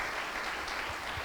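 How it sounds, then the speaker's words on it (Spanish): A church congregation breaks into applause for the Lord during a sermon, a brief, steady wash of many clapping hands that sounds fairly distant and reverberant. "Le da un aplauso al Señor, hermano."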